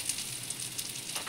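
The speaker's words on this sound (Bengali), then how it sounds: "একটু ভাজা হয়ে যাক।" Bitter gourd frying in a pan with roasted, ground radhuni, mustard and panch phoron spices, a quiet steady sizzle with small crackling pops throughout.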